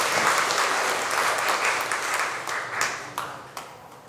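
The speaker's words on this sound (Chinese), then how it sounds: "我们再次掌声来欢迎他们" A church congregation claps together in warm, sustained applause that fades away in scattered final claps.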